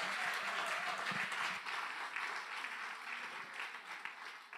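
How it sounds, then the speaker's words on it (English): Continuous applause from a small audience for the winner of an 80s music quiz, a dense, even clatter of many hands with no clear talk. "So let's give him a round of applause."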